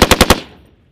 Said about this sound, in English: Send a burst when you're on target.